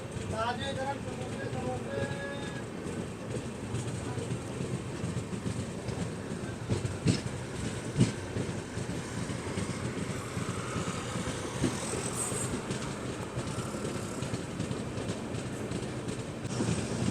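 The Gorakhpur LTT Mumbai Express makes its short stop at Balrampur railway station, with a continuous rail rumble and rhythmic clatter throughout and voices talking over it.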